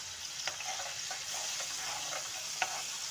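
Minced garlic sizzles in hot oil, a steady frying hiss with scattered pops and the occasional scrape of a stirring spoon, fairly close and continuous, no voices.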